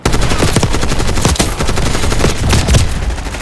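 Rapid automatic gunfire in Call of Duty Black Ops 6 on PS5, loud, dense bursts of shots going continuously, with faint voices beneath.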